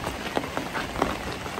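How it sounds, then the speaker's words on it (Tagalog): Steady rain patters on a surface as a dense, close hiss with scattered louder drops, heard alone with no voices. "at umuulan"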